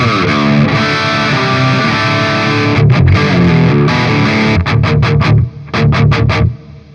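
Distorted electric guitar through a Donner Pocket Go amp plays chords with a wash of reverb trailing behind, loud and continuous, with a few choppy rhythmic stabs near the end.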